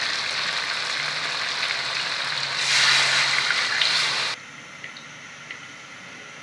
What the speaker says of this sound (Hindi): अब हम इसमें पानी ऐड करेंगे, ये वाले गिलास 2 गिलास हम पानी ऐड करेंगे 1 गिलास चावल से।